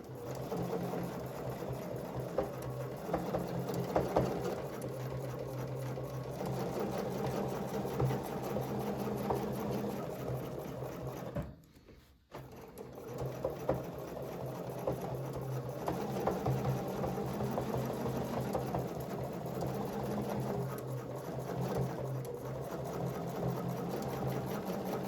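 Sewing machine stitching a quilt, a steady, continuous motorized hum with fine rapid needle chatter running for the whole stretch, briefly stopping once midway before resuming.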